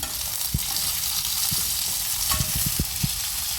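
Garlic and chana dal sizzle steadily in hot oil in a pan, with a few sharp clicks and scrapes of a spoon stirring through the frying, close and without talk.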